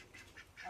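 Ducks quacking in a brief, faint burst of two or three nasal calls, a little distant, with no talking.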